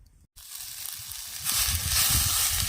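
Onion, coconut, ginger, garlic, coriander and tomato roasting in a pan, a soft sizzle after a brief silent gap that grows louder and crackly midway, close and without talk.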